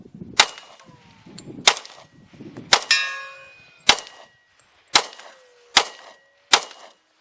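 Kriss Vector .45 ACP fired at steel targets on a range: seven sharp single shots spaced about a second apart, each followed by a ringing metallic clang, one ringing longer than the rest.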